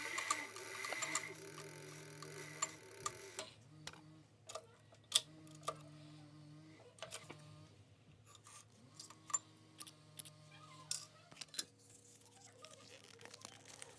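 A sewing machine stitches a leather IWB holster in several bursts, a quiet mechanical hum with rhythmic ticking, interrupted by short pauses and handling clicks.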